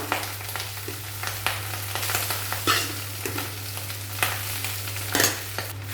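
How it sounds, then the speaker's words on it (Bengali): Boiled rice being stirred and fried in ghee in a pan for vegetable fried rice, with a steady close sizzle and repeated scraping stirs at an irregular pace, and no one speaking. "এরপর ভাত ঘিয়ের মধ্যে নাড়াচাড়া করে নেবো"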